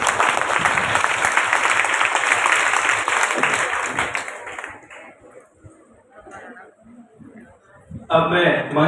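Applause from women in a rural audience at a gathering in Udaipur, loud mixed clapping and crowd chatter for about four seconds, then fading to scattered quieter sounds before another burst of clapping at the end.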